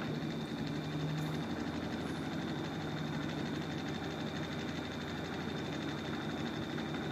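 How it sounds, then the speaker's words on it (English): Small three-phase BLDC motor running from an Arduino controller on a 9 volt supply, giving a faint, steady electrical hum and whine throughout, with no talking. "now here look at this, the motor is running"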